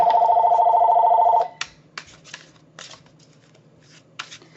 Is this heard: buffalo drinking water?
no